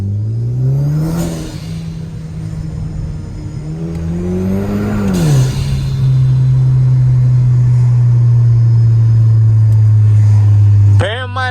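A turbocharged Kia sedan revs hard from the cabin, its engine note climbing in two surges and then holding a steady loud drone, with a sharp burst near the end; no talk over it.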